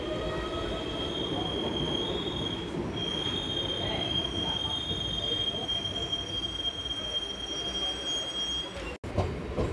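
Steady rumble and rail squeal heard from aboard a MEMU express train running between Tenali and Vijayawada near Peddavadlapudi, with a thin high whine held throughout and a brief dropout near the end.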